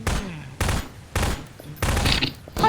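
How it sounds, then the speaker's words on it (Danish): A shotgun in the game GMod fires at a wall, four or five loud separate blasts spaced roughly half a second apart, each with a short ringing tail. "Jeg skyder på væggen"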